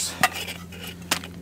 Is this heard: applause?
no